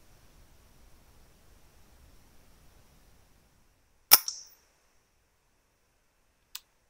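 A single sharp crack of an FX Dreamline air rifle fired at a grey squirrel from a pop-up hide, loud and brief against near silence, followed by a short rattle and later a faint click.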